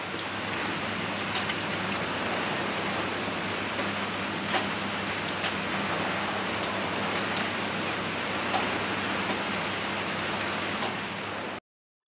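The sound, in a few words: rain falling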